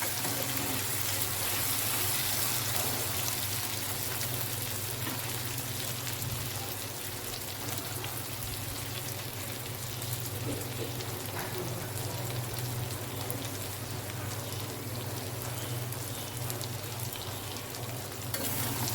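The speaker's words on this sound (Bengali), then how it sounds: "আমার শুটকিকে একটু ভাজা হোক" Dried loitta fish (Bombay duck) frying with onions in a pan, a steady broadband sizzle that holds even and loud throughout with faint stirring scrapes, no talking.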